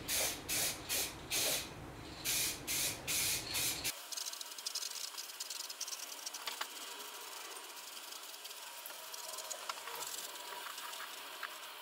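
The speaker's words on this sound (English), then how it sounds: "I'm now going to go around and spray the walls where I've got all the red oxide on" Paint spraying onto camper van walls during a van conversion, first as several loud hissing bursts in a regular rhythm, then a steadier, quieter continuous spray hiss that runs to the end, with no talking.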